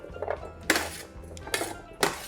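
Chopped turnips being tossed with a tablespoon of olive oil in a bowl, giving a few clinking, scraping knocks of utensil against dish in a quiet kitchen, with no talking.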